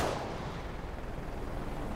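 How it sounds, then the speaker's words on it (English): A flashbang grenade going off in a shooter video game: a loud, close boom that decays into a long, ringing rumble, with no talk. "Deploying flashbang."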